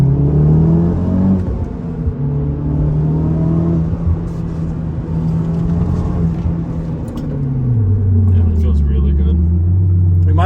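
Honda Civic Type R engine pulling hard through a corner, a loud sustained drone rising and falling in pitch as revs climb, dip around a shift and build again, with road rumble underneath.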